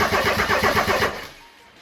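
A diesel-swapped 2JZ engine in a Datsun cranks with a rapid, even churning rhythm for about a second, then stops and leaves a faint tail of noise.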